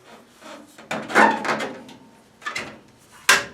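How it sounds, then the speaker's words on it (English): A new radiator slides down onto new brackets in a Chevy C10 truck, making a few close scraping, knocking metal contacts in short separate bursts. "Got the new radiator sliding back down on the new brackets"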